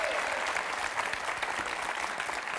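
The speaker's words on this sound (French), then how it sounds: "On applaudit très très fort Alphonsine." A French television game show studio audience claps for a contestant, a dense, sustained burst of applause filling the room without letup.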